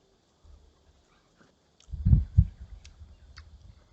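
A pet dog whimpers and makes low sounds near a kitchen at lunchtime, with two louder close vocal bursts midway followed by softer whines.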